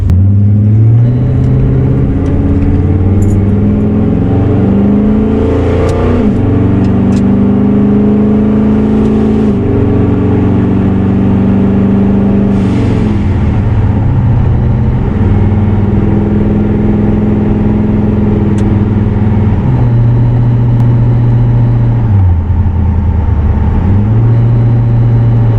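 Car on a test drive after a dual rear caliper install, engine loud and steady throughout with repeated rises and falls in pitch as it accelerates and shifts, heard from inside with no talk.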